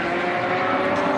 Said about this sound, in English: the two Porsches fighting now